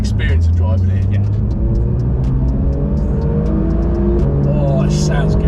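A Porsche 911 GT3 RS Weissach engine revs hard up close, its note climbing through a gear change and then pulling strongly again, with a deep rumble underneath.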